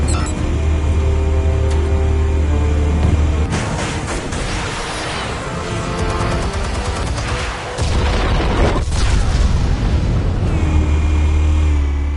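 Explosives detonating in the Telltale Batman game, a loud sustained blast and crumbling rumble breaking through a low droning background, followed by another heavy impact and lingering debris noise.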